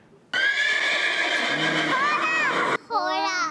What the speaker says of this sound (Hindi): कौन सा जानवर था ये? घोड़ा था, हॉर्स था।